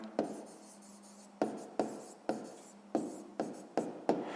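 Pen writing by hand on paper during a sixth-grade math exercise, heard as a series of short scratchy strokes in bursts of about eight, close and fairly clear, with no talking.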